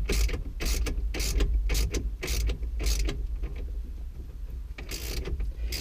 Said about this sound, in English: tighten that, turn with our socket, 22mm edge on there, remember to tighten